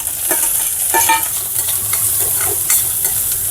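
Chopped onions fry in a pan with a loud, steady crackling sizzle, broken by repeated scraping stirs and clinks of a spatula.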